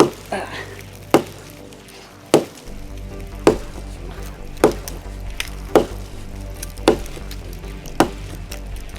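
Hard, sharp thuds of an ESEE 6 knife's pommel hammering into wood, eight evenly spaced blows about a second apart, close and loud with a brief woody knock on each impact.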